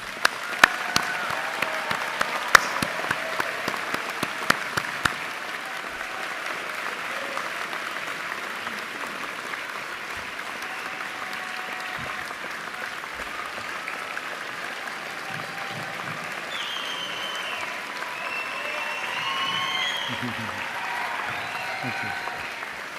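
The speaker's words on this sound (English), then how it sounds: "I think that deserves another round of applause for our graduates." A large audience at a university convocation ceremony applauds its graduates with a steady, dense wash of clapping that lasts throughout. A few sharper claps stand out near the start, and faint voices may sit underneath.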